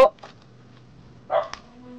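A dog barks a few short times nearby in a quiet forest setting, one sharp yap at the start and another cluster later, faint and separated by near silence.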